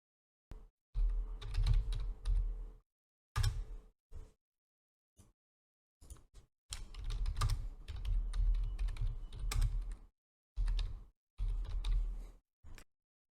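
Someone types a comment on a computer keyboard while working in Revit plugin software, with close, quiet bursts of keystrokes separated by short pauses and no speech.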